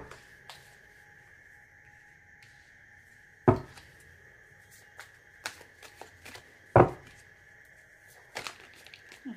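Tarot reading cards being shuffled by hand: soft papery riffles and brushing with a few sharper snaps and slaps of the deck, close and fairly quiet, with no talk.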